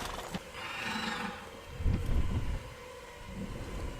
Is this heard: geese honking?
no